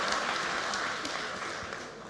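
An audience at a startup fair's main stage applauds with a soft, steady patter of clapping that stays moderately loud and fades slightly toward the end.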